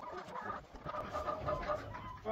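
Chickens on a small farm clucking softly at bedtime, low murmuring calls close by and fairly faint.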